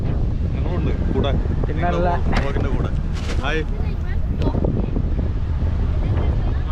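A sea boat ride off Musandam, Oman, among mountains: constant loud wind buffeting the microphone and water rushing past the hull, with people talking over it.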